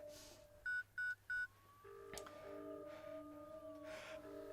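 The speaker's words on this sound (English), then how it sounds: "Look, I'll phone an ambulance." Three short telephone keypad tones beep in quick succession while an ambulance is being called, followed by a faint ringing tone and soft breathing in a quiet room.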